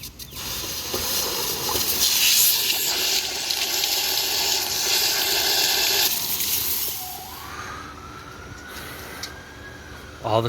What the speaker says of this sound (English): So we're gonna flush the drain too, make sure I don't have a water leak tomorrow.